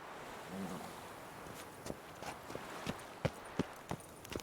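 Horse hooves clip-clop in The Witcher 3 in a string of sharp, evenly spaced taps over a faint ambient bed, getting louder and closer toward the end.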